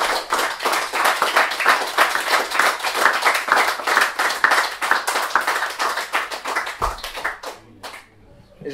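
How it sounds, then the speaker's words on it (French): An audience applauds continuously, dense rapid clapping that stays loud and even for most of the stretch before thinning out and fading near the end. "vous m'applaudissez"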